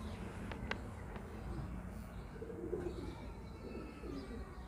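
Soft high-flyer pigeon cooing repeats faintly over a steady low background hum, with a few brief higher chirps near the start.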